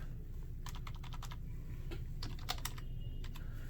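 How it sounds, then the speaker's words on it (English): Rapid keyboard typing in quick bursts of clicks over a steady low background hum, close and moderately quiet. "I'm just typing everything in."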